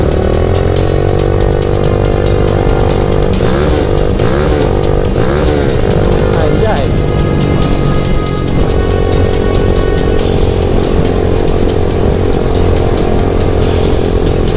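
A Yamaha Jupiter MX motorcycle engine runs loud and close, a steady buzzing drone that rises and falls through a few quick throttle blips before settling back to a constant hum.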